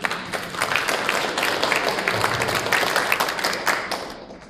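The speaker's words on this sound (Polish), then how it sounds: "Wielkie brawa!" Audience applause at a lecture event fills the room, a dense mass of clapping with sharper individual claps standing out, sustained at an even level before easing off at the end.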